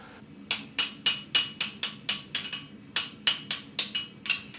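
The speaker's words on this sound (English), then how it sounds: "we put it on the anvil and just straighten everything out" Hammer striking an axe head on an anvil to straighten it, a rapid run of about fifteen sharp metallic blows in two bursts, loud and close with quick ringing decay.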